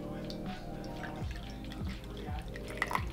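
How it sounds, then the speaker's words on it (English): Water poured from a kettle into a cup at a Christmas coffee bar, a rising gurgle with drips, under a low hum and soft background noise. "Let's pour a little bit more water."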